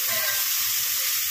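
Chopped tomato and ginger fry in a hot pan for vegetable Maggi noodles, giving a constant close, loud hissing sizzle with no voices over it.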